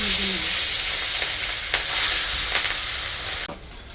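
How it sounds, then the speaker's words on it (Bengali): Pieces of rohu fish, about 3.5 kg of fish cut up, sizzle and fry in hot oil in a pan. The frying runs loud and steady with a few stirring clicks and eases off near the end. "মাছগুলি ভাজা হয়ে গেছে"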